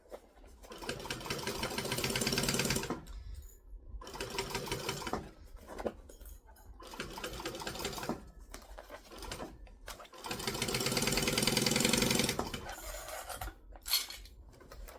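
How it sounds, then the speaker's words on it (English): A sewing machine stitches the straight seams of a kangaroo plush pattern in close, loud bursts of rapid whirring, several runs of a few seconds each separated by brief pauses, with no voices. "The straight bits are always easier to sew."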